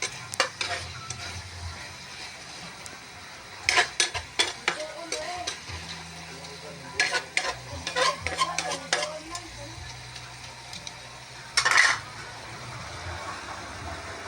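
Ginamos sautéing in a pan with garlic, onion and tomato, a soft sizzle with bursts of clattering stirring and a few sharp metallic knocks against the pan.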